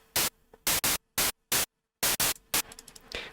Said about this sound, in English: so it's literally just white noise.